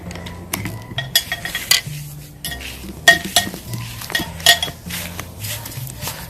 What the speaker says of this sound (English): I'm going to add a little sand to my compost. Just kind of mix it around.